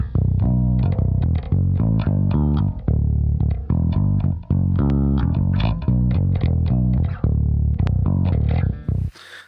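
An electric bass plays a punchy, distorted riff of short repeated notes, recorded through a Studer A800 tape machine and an LA3A limiter with plugins, loud and upfront with no talking.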